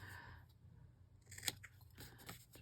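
Scissors snipping through contact paper, a few close, quiet crisp cuts with a sharp snip near the middle, alone in a hushed room.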